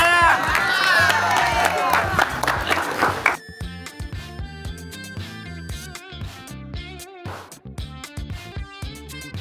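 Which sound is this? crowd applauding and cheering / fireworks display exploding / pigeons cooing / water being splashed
crowd applauding and cheering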